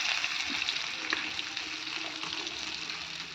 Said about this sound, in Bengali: আর আলুটা দেখুন একটু ভেজে নিচ্ছি।